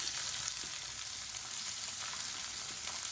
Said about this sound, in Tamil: இப்போ எண்ணெய் நல்லா சூடாயிருச்சு. இப்போ இதில் சின்ன வெங்காயம் சேர்த்துக்கலாம்.